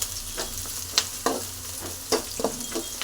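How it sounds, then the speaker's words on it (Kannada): Onions fry in a pan while being browned for a quick egg rice, a steady low sizzle broken by several sharp stirring scrapes and clinks of a spatula, close by with no talk. "ನೋಡಿ, ಫ್ರೈನ ಮಾಡ್ಕೊತಾ ಇದ್ದೀನಿ."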